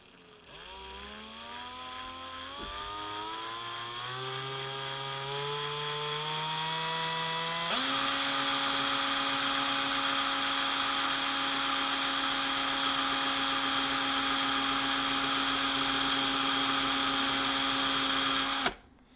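A power drill spins up and runs steadily, twisting wire into a zipper coil for a vape build; the motor whine climbs in pitch, then holds loud and constant for several seconds before cutting off abruptly.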